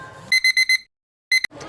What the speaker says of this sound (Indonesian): Dering alarm yang berbunyi sangat keras dari handphone Lea membuat ia langsung terbangun.